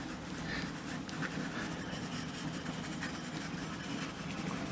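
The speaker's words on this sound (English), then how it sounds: "by dragging the pencil like that." A pencil scratches softly across paper in faint, continuous strokes while an oil pastel mountain scene is drawn, heard close and quiet with no voices.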